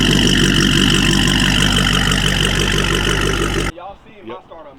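A Dodge Scat Pack with an aftermarket catback exhaust idles with a deep, steady burbling rumble that cuts off abruptly near the end, leaving a voice talking.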